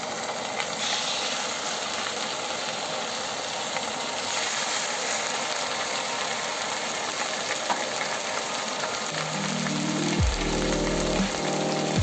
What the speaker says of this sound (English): Then we're going to be searing the pork belly.